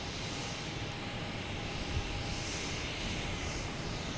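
A Spirit Airlines jet backing out at Boston Logan airport gives a steady, broad engine rumble and hiss, distant and even throughout with no distinct events.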